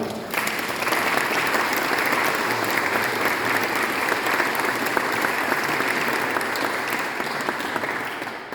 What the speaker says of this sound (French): On peut encore les applaudir parce qu'ils sont formidables.